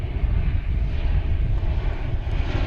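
Boeing 737-800 airliner from Silao, Mexico, a steady broad jet roar with a low rumble, moderately loud and continuous, heard at an airport.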